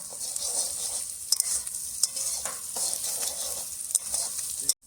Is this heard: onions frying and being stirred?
yes